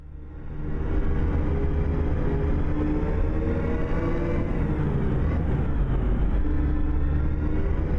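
A Mercedes O302 bus engine in Euro Truck Simulator 2 drones as a steady low diesel rumble, fading in over the first second and holding a constant, fairly loud hum throughout.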